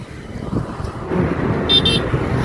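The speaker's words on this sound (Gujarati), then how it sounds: "જો ગાડીઓ ચાલુ જ રહી છે" Cars and other vehicles pass on a bridge road, a steady low rumble of traffic with a brief horn toot near the end, heard from a moving motorbike.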